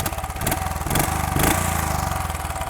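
A 2020 Royal Enfield Bullet Trials Works Replica 500 ABS motorcycle runs close by with a steady thumping single-cylinder idle, lifting into a few short revs.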